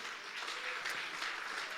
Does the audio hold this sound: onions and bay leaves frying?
no